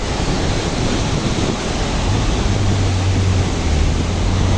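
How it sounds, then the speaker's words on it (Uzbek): Continuous rushing of river water flowing outdoors, a loud, steady broadband wash mixed with wind buffeting the microphone. "Qarang daryoni suvini oqishini"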